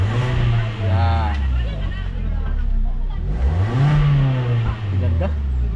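A 2011 Hyundai Tucson engine, just repaired with a new throttle body, rises and falls in pitch as it revs up twice, with people talking over it throughout.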